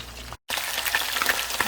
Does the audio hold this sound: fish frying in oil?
yes